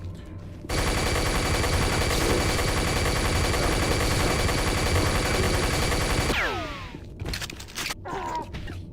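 A minigun in a video game fires as one continuous, dense roar for several seconds, loud and close. It then cuts off, leaving scattered whooshing and clattering game effects.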